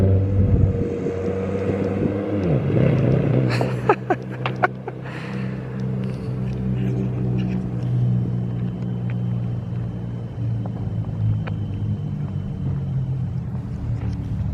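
Nissan 350Z Nismo engine while driving, a low rumbling drone that rises at the start, then settles into a steady hum with several sharp clunks and knocks, close and fairly loud, with no talking.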